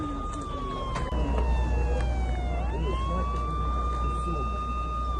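A wailing siren rises and falls steadily over a low rumbling background after explosions near a supermarket in Ternopil, Ukraine, moderately distant, with faint voices underneath.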